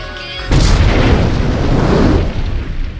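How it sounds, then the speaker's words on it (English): A bomb going off in a movie: one sudden loud boom that rolls on as a long, heavy rumble for several seconds before cutting off. "Now the bomb goes off."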